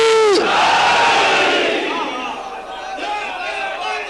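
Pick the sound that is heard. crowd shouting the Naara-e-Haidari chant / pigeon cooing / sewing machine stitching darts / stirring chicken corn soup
crowd shouting the Naara-e-Haidari chant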